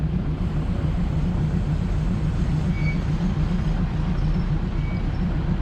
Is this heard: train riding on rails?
yes